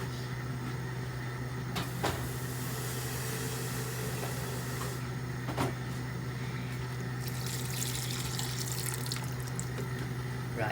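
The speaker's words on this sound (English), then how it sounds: "So I might well just put more water in there now." Water runs steadily from a tap into a pot of oden stock, a continuous splashing stream beneath a constant low hum, with a couple of brief knocks.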